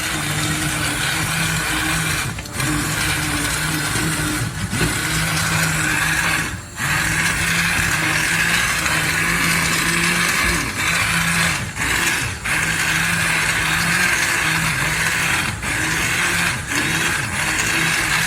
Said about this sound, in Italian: Adesso prendiamo il frullatore a immersione e la frulliamo.